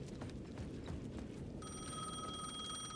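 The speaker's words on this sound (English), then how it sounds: "The phone is ringing." In Alan Wake 2, a payphone starts ringing partway through with a bright electronic bell tone over a dense, clattering city ambience, moderately loud and continuing to the end.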